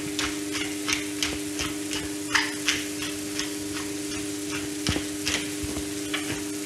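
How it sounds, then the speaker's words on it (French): Zucchini slices fry in a pan with a steady, close sizzle, broken by light scattered ticks and pops and a few utensil taps. "on poêle nos courgettes avant"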